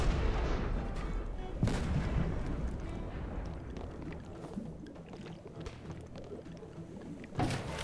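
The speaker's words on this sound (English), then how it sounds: "Are you firing your cannons as priority at long range" Ship cannons in the pirate video game Blazing Sails fire in sharp booming blasts, one near the start and another at the end, over a churning backdrop of sea and ship noise.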